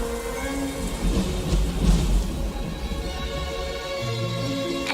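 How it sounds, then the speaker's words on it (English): Heavy rain falls steadily while a deep roll of thunder swells in the middle and fades, a dense storm wash with no voices over it. "Then came the rain."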